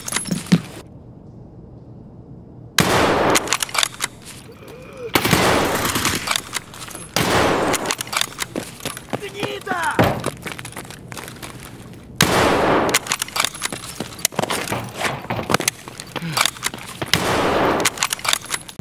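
Mosin bolt-action rifle firing in Escape From Tarkov, a series of loud, sharp reports spaced several seconds apart, each followed by a ringing tail, with shorter mechanical clatter between shots.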